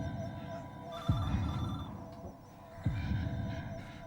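Telephone ringing indoors in two spaced bursts, moderately loud over a steady low hum, with faint background voices.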